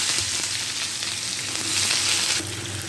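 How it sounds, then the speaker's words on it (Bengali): Chopped onions dropped into hot oil already spiced with cardamom and cinnamon, giving a loud, continuous close-up sizzle with a few soft stirring movements and no voices. "এখন আমরা পেঁয়াজ কুচি দেবো।"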